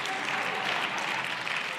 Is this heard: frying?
no